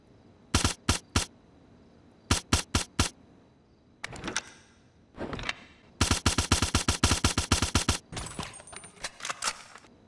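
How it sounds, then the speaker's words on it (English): A rubber gun firing sound effect from the video game GTA V: rapid sharp shots in short groups, then a long fast rattling run near the end, with no talk. "There's also a rubber shooting sound effect in the game, which could have been a sound effect that the gun used"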